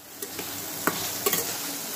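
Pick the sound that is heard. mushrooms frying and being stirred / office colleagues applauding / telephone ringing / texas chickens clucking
mushrooms frying and being stirred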